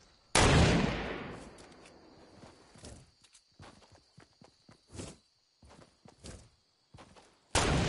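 Gunfire in the video game Everwatch: a loud burst opens the clip, followed by a series of sharp, scattered shots and thuds at varying distance, ending with another loud blast.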